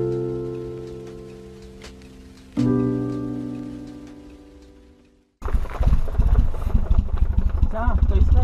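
A BMW 318is turbo engine idling too low, below 500 rpm, running without an engine map: a steady low rumble that sags and surges once, then gives way to a rougher, louder running sound.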